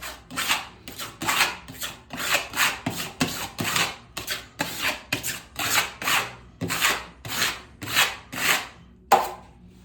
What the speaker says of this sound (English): moving the knife in a couple different directions just to get everything off of there